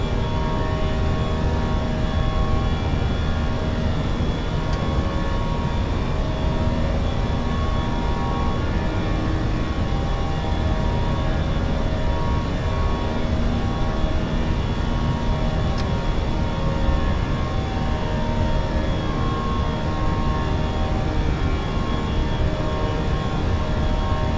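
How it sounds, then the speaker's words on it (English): A British Airways Airbus takes off from London Heathrow bound for Belfast, with a loud, steady engine roar that holds unbroken throughout and no talk. "Okay, successful takeoff out of EGOL."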